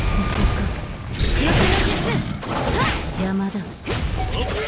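In Naruto Mobile, Pain's clone explosion attack sets off a flurry of booming blasts, crashes and whooshes in rapid succession, with a character voice speaking briefly over the clamor.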